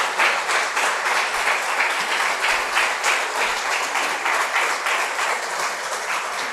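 Sustained applause from a church congregation during a Spanish-language sermon, many hands clapping together in a thick, steady wash that holds at an even loudness throughout.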